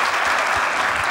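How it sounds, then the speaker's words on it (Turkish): Studio audience applauding guests on a Turkish TV entertainment show, a dense steady burst of clapping that fills the whole short moment at close range. "Alkışlar size."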